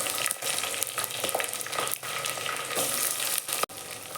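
Green chillies, curry leaves and shallots sautéing in oil in a clay pot for a dry fish curry, a loud steady close crackle and sizzle with stirring scrapes, no voices.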